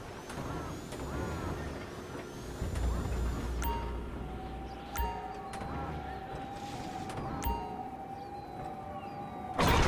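Heavy industrial port machinery in GTA V, with truck engine rumble, hissing air-brake bursts and sharp metallic clanks from container handling, plus a steady electronic tone, all fairly close and continuous.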